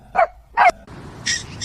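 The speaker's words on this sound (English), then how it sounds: "dog," A dog gives two short, sharp barks in quick succession, then a thinner yip after a pause, close and clear against a quiet background.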